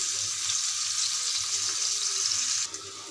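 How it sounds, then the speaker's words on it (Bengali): Chopped onions frying in hot oil for a beef curry, a steady close hiss of sizzling that eases slightly near the end. "পেঁয়াজগুলো এখন আমি লাল লাল করে ভেজে নেব।"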